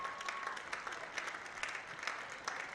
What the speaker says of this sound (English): And we get a good round of applause for the War Eagles player